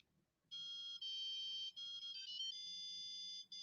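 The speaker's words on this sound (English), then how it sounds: "we can play the Legend of Zelda theme." A hacked remote plays the Legend of Zelda theme as bright electronic beeping tones, a clear melody of sustained pitched notes changing every half second or so, loud and alone.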